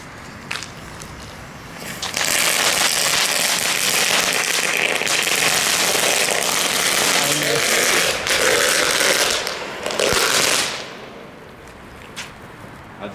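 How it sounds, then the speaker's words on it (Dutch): A crackling fountain firework bought at Aldi sputters and pops densely for about nine seconds, a loud continuous crackle that swells, then fades out, with faint outdoor noise before and after. "Knetterfontein."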